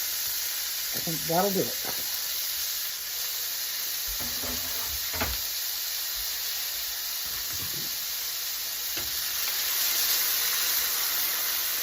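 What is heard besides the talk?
chopped onions sizzling in hot oil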